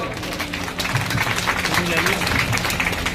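Audience applause welcoming a speaker at a gathering of young people addressed by a former Dholpur MLA, a dense patter of many hands clapping throughout with voices mixed underneath.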